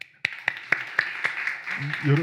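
A church congregation claps together in a steady, even rhythm of about nine sharp claps, loud and close, ending as a voice begins to speak.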